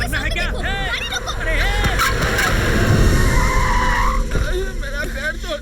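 A car brakes hard and skids to a stop with squealing, wavering tire screech rising over shouting voices and crowd babble, in a dubbed action-film street scene.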